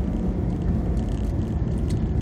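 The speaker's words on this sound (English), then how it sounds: "Engine braking, guys." A 2012 Acura TL SH-AWD with a manual gearbox slows under engine braking, giving a steady low rumble and road noise heard from inside the car, with no talk.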